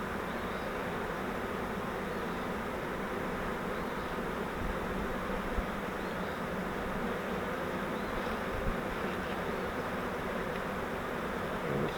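A freshly caught swarm of honey bees on frames in a bucket drones in a continuous, dense buzz, close and unbroken for the whole stretch, with no talk.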